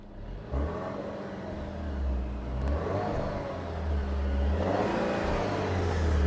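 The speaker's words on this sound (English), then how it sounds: "Give it another rev." An Alfa Romeo Giulia's turbocharged engine revs up twice, heard from the exhaust side, rising from a low idle rumble into a strong, throaty roar that holds and swells.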